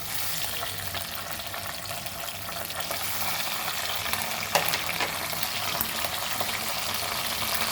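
Curry leaves and ginger garlic paste frying in oil produce a broad, steady sizzling hiss close up, with one brief sharper spatter midway and no talking.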